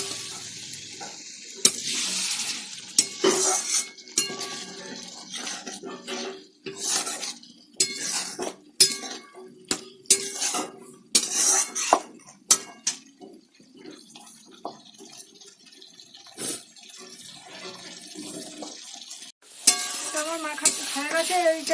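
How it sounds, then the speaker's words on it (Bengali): Flour dough for kachori is kneaded by hand in a bowl while water is added, producing close, irregular wet squelching and slapping bursts with pauses, alongside occasional clinks and a running-water stretch. "এবার এগুলো ভালো করে মেখে নেব জল দিতে হবে"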